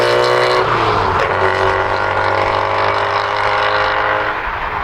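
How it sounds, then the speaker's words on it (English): A VW Golf GTI Mk2 fitted with coilovers drives on country lanes, its engine a loud, steady drone with a close, continuous rumble and a slight pitch shift early on. "Let's take it down a couple of country lanes and then see how she's handling."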